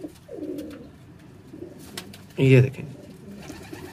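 A single soft pigeon coo sounds close by, brief and low, amid quiet background noise and a few words of speech.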